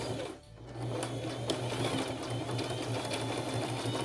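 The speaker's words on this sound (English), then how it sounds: "let me sew the elastic. Give that a couple of stitches." A sewing machine stitches elastic for a scrunchie, starting after a brief pause and then running in a steady close whir of rapid stitches.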